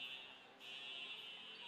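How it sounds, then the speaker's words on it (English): A fire alarm sounds steadily from the far side of a gym during a high school volleyball tournament, a faint, distant high-pitched buzzing tone with a brief dip partway through. "the fire alarms are going off in the far side of the gym"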